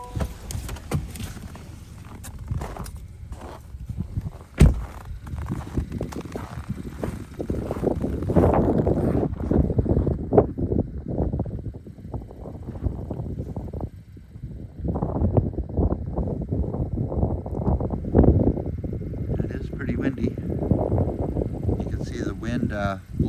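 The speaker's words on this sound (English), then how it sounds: "wind blowing up the snow across the lake here" Wind gusting across a frozen lake near Parry Sound, blowing up snow in rough, roaring bursts that buffet the microphone, with someone talking over it.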